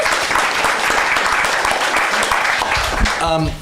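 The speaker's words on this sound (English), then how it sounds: "another round of applause" A crowd applauding steadily and loudly, dense clapping throughout, fading out at the end as a voice starts.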